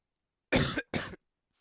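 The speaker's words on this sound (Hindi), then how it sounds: "अभी खांसी तो वैसे ही चल रही है ना" Two harsh coughs in quick succession, close and fairly loud, then silence.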